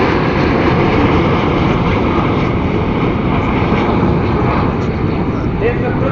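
Red Arrows jets fly in formation at the Bournemouth Air Festival, a loud, steady broadband jet roar holding throughout under an announcer's commentary.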